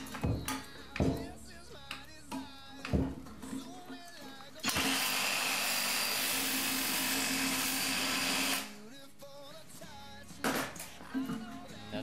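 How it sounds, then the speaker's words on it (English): A cordless 18-volt DeWalt reciprocating saw with a metal-cutting blade cuts through a rusted toilet tank bolt in one loud, steady burst of roughly four seconds, close by, with talk and handling noises before and after. "The easiest way to cut rusted toilet bolts is with a sawzall. I use a cordless 18-volt DeWalt with a metal cutting blade."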